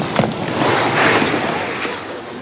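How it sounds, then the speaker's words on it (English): Tutsi troops opening fire on refugees at Kibeho in 1995, captured on amateur recording as loud, rough outdoor gunfire with sharp cracks over constant noisy background, with voices mixed in. "This amateur video records the sound of Tutsi troops opening fire on the refugees."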